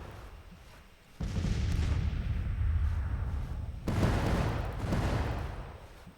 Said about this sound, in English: Now they'll be under artillery fire the whole way forward.